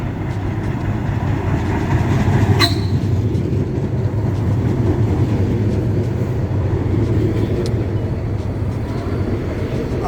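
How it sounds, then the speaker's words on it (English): A DC Metro train arriving at Loudoun Gateway station rumbles steadily nearby with a continuous low roar and faint rail squeals, one brief sharp screech partway through. "Got a train coming in as we speak."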